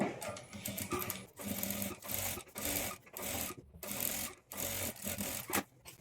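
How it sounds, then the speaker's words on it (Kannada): Sewing machine running bursts of top-stitching along a folded sleeve lining, a fast whirring rattle that stops and restarts in short runs, close and fairly quiet with no voices. "ಲೈನಿಂಗನ್ನು ಇನ್ಸೈಡ್ಗೆ ಫೋಲ್ಡ್ ಮಾಡಿ ಮೇಲೆ ಒಂದು ಟಾಪ್ ಸ್ಟಿಚ್ ಹಾಕ್ಕೊಳ್ಬೇಕು"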